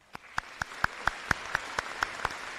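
Sparse applause at an eighth grade honors program in a school setting, recognizing fall sports participants: about ten distinct, evenly spaced handclaps, fairly faint and slightly distant, with no talking.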